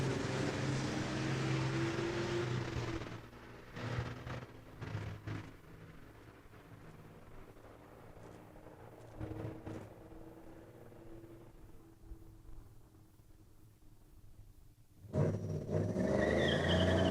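A Ram 2500 truck roars off at a drag strip, a loud engine blast at the start that fades into the distance with faint crowd noise, then another vehicle surges loudly near the end.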